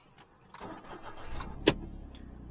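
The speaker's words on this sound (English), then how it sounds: "Start a second gen smart car. So, ignition on." Second-generation Smart ForTwo with its ignition switched on: a few soft clicks and a faint starter-like whirr, then a sharp click and low hum close by, with no talking.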